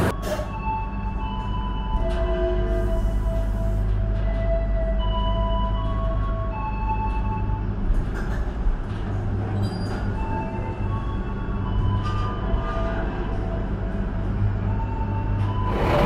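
Madiun Jaya passenger train under way out of Yogyakarta Tugu station, heard from inside an economy premium car on K10 bogies: a steady low rumble with wheel-on-rail rattling, intermittent squeals and clunks, close and continuous.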